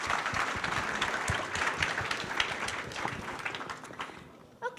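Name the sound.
applause for Blondine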